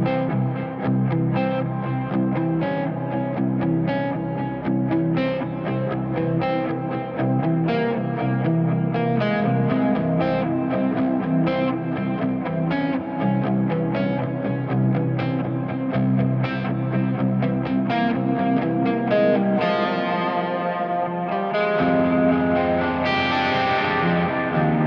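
Electric guitar played through a dual amp stereo rig on its third effects patch, a lighter take on the previous lead tone. Steady sustained strummed chords and riffs carry modulated distortion throughout, loud and continuous with no talk.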